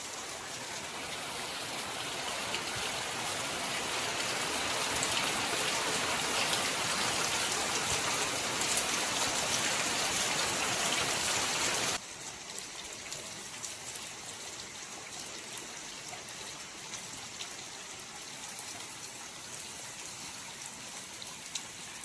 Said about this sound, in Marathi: ह्याला म्हणतात पावसाचा जोर.